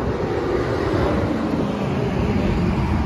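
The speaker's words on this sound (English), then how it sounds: "Sorry for the road noise." Steady broadband rumble and rushing tire noise from inside a moving car, loud and continuous with no talking.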